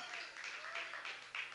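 A church congregation applauds during a sermon, a soft, fairly distant wash of clapping that swells in several waves.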